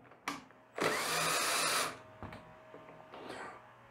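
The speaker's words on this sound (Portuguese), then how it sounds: "a gente vai soltar esses dois parafusos" A power tool loosens two screws on a Lynus PDL-1300 thickness planer, giving a short buzz and then a steady whirring burst about a second long, followed by quiet clicks and handling of metal parts.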